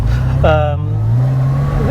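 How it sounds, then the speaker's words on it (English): A car with an aftermarket exhaust and no rear sound padding accelerating, the engine drone rising steadily and close by, with a person talking over it. "it actually accelerates quite well, and it's got an aftermarket exhaust, so it sounds quite good"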